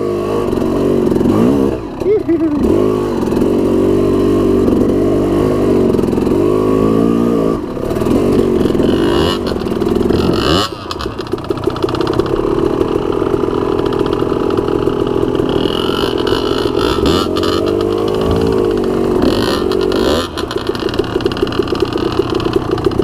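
A motorcycle engine revs and strains while riding up a hill with a brief wheelie, a loud continuous drone with rising and falling pitch throughout, and people talking over it.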